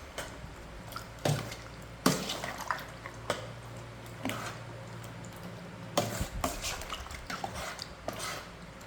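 Tender coconut salad tossed by hand in a bowl, with wet squishing, stirring strokes and several sharp clinks against the bowl, close and fairly loud.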